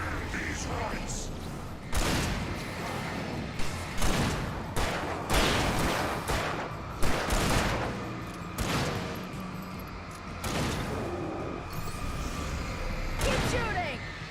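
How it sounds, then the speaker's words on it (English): Repeated gunshots in Alan Wake Remastered ring out at irregular intervals, loud and close, mixed with in-game voices and background noise. "Keep shooting!"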